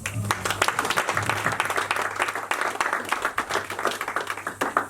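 A church congregation applauds the Lord together, dense sustained clapping filling the room at close range, with a few voices mixed faintly under the applause.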